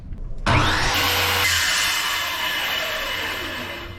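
Power saw biting into scrap wood trim for a box truck camper wall, a sudden loud buzzing cut starting sharply and running steadily for several seconds before slowly tapering off.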